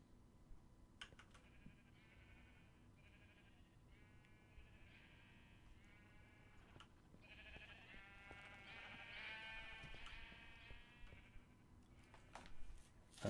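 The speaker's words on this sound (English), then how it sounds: "Yes, I do need to still set up the sheep." Minecraft sheep bleating repeatedly in quick wavering calls, several overlapping near and far at low volume over a faint background hum, with no talk.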